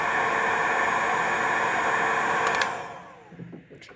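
A loud, steady broadband blowing roar of an industrial heat gun runs continuously then cuts off, leaving faint clicks and quiet handling.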